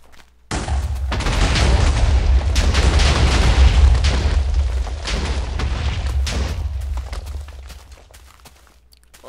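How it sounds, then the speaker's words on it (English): TNT detonating in Minecraft, a loud, close, rumbling explosion that bursts suddenly and roars for several seconds with crackling blasts before fading out. "let's just go ahead and detonate"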